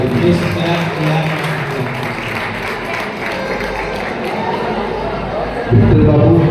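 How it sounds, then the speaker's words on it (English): Wedding guests applauding in a church ceremony, a broad patter of clapping filling the room, with voices and a swell of louder sound near the end. "Please clap."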